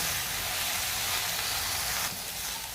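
Vegetables frying in hot oil for a wedding-style gravy, a steady broadband sizzle that holds evenly for the whole span and dips slightly near the end, with no voices over it.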